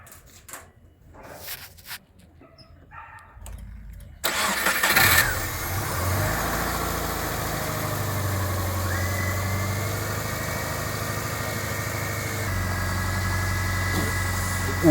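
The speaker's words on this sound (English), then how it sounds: "Car is running." An old truck engine cranks and catches after a few quiet seconds of handling noises, then settles into a steady, fairly loud idle with a faint whine rising partway through.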